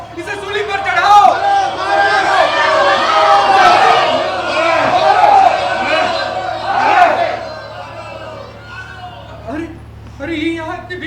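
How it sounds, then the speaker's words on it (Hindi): A large crowd shouts and roars together in a theatre staging, voices massed and overlapping with rising and falling surges, loud and close, fading near the end before swelling briefly again. "अरे ये यहाँ इतनी भीड़ क्यों लगी है?"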